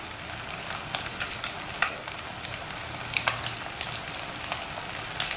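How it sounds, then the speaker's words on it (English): Spices for mutton pulao, coriander powder and garam masala among them, fry in a pan with a steady quiet sizzle and scattered small crackles and pops, no talk over it. "just have to fry them to get the flavors in them."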